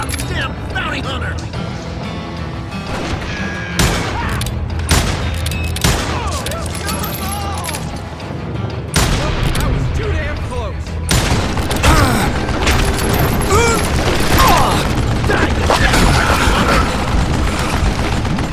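Men exchange heavy gunfire in the western shooter Call of Juarez Gunslinger, with repeated loud sharp shots and bursts cracking throughout, some closer and punchier, over a constant din of battle noise.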